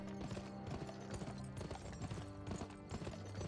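Horse hooves clip-clopping at a brisk, regular gallop in a video game, close and continuous with an even rhythm throughout.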